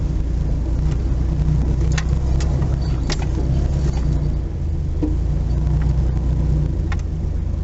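A four-wheel drive rig's engine labors steadily while climbing rough hills on a trail toward a Great Lake, a continuous low rumble with occasional knocks and clatters from the terrain, no talking.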